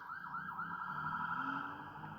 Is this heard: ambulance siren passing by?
yes